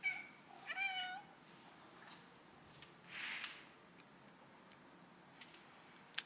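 A pet cat meows two or three times in quick succession near the start, close and fairly clear in a quiet room, followed by a few faint ticks and a brief soft hiss.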